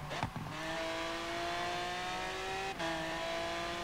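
Lamborghini Veneno with a 6.5-litre V12 of about 750 hp in Forza Horizon 3, a sustained loud engine drone at steady revs with a brief gearshift dip partway through.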